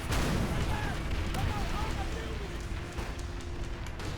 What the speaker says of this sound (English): let's put a couple rockets into this last tank